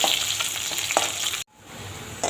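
Chopped onion and garlic sizzle in hot mustard oil in a wok, a steady close frying hiss with a stirring scrape, then a sudden brief drop to near silence before the sizzle slowly swells back.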